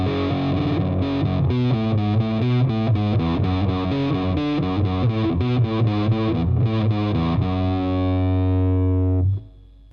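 Distorted electric guitar plays a riff in a loose, sloppy way, a steady run of chugging low notes and higher melody notes for about nine seconds, then one sustained note that cuts off abruptly.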